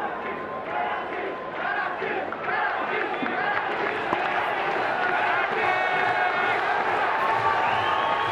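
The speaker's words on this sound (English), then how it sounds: "Listen to this crowd now." A large cricket stadium crowd at a Karachi Kings vs Islamabad United PSL 2017 eliminator roars and cheers continuously, swelling in volume, with voices faintly audible within the din.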